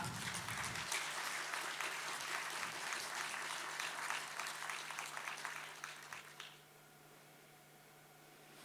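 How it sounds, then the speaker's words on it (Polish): An audience at the Marka Tatrzańska regional award ceremony gives a priest dense, sustained applause as he comes to collect a statuette. The clapping is loud and continuous for about six seconds, then breaks off abruptly, leaving quiet room tone. "Duże brawa!"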